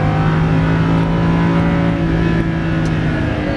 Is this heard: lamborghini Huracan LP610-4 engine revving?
yes